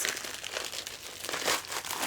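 Plastic zipper pouches holding Disney mystery pin board sets crinkle steadily as they are handled and opened, a close, continuous crackling with brighter bursts and no talking.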